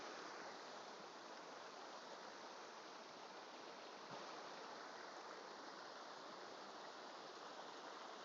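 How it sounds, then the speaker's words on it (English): A small clear river in the Lake District near Mellbreak and Crummock Water flows with a constant, even rushing and babbling, close by and unbroken, with no voices. "Yeah, lovely little river."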